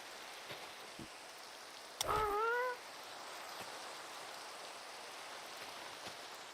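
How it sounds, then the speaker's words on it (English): Rain in the video game Minecraft makes a soft, steady hiss throughout, and a brief cat meow rises above it partway through. "It's raining in Minecraft too, Rosie."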